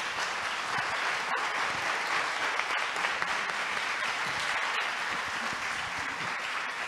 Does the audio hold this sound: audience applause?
yes